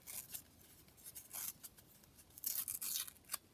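Scraps of paper torn apart by hand for a triple-pocket craft: a quiet run of short, crisp rips and rustles in uneven bursts, with no talking.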